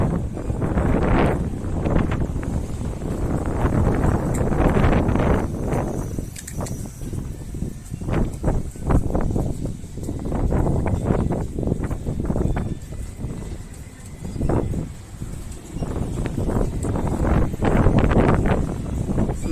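Gusty wind buffets the microphone along the seafront in Benidorm, rising and falling in repeated rough bursts with no voices, loud and close throughout.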